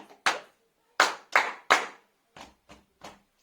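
Children's body percussion in a remote music lesson: a run of sharp hand claps and slaps, some clustered close together, then three softer, lighter pats. No talk is heard.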